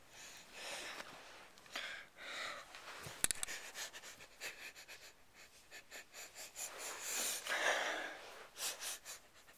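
Repeated sniffles and breathy snorts come in short irregular bursts, close and fairly quiet, with a sharp click partway through and no talking.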